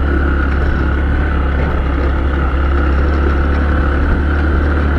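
A motorbike engine labours uphill on a mountain road, a loud continuous low drone with a steady hum and faint rattle throughout and no voices.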